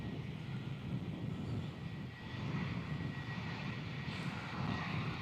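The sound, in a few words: Qantas Boeing 737-800 jet aircraft engines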